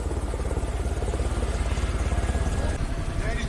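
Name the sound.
helicopter in a film scene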